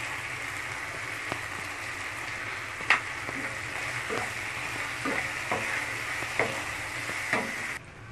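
Mutton with red chilli powder and other spices sizzles steadily in a kadai during stir-frying, a constant close frying hiss broken by several sharp scrapes and clinks of the stirring spoon.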